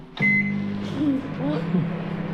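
A microwave oven hums steadily after starting with a sharp click, a low electrical drone running throughout with faint muffled sounds over it.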